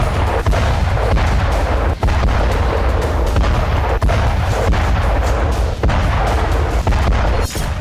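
Heavy, continuous booming and rumbling of bomb explosions during the Israel-Gaza war, with sharp blasts punctuating a dense roar throughout.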